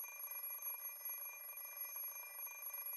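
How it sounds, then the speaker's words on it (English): An alarm clock ringing in the Fate/Stay Night visual novel: a faint, continuous electronic beeping ring with a steady pulsing pattern, heard alone without voices. "The alarm clock doesn't speak my language."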